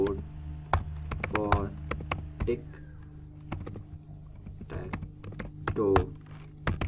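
Typing on a computer keyboard, with quick irregular clusters of close key clicks and taps, someone talking over them.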